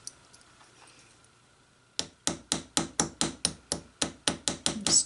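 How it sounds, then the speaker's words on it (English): A tiny lightweight hammer rivets a hinge: after a quiet start, about fourteen sharp, close metallic taps land in a fast, even rhythm. "This teeny tiny little no-ounce hammer will definitely do the job"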